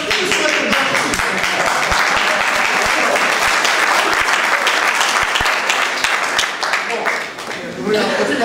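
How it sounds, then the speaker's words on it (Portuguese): Loud audience applause at a cultural talk fills the room as dense, sustained clapping that swells and then briefly dips near the end, with a few scattered chuckles in the crowd. "Obrigado pelas palmas"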